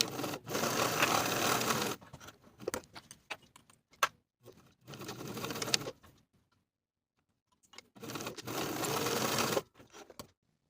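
A sewing machine stitches a side seam on pants in three loud, steady bursts of a couple of seconds each, separated by quiet pauses with light clicks and handling of fabric.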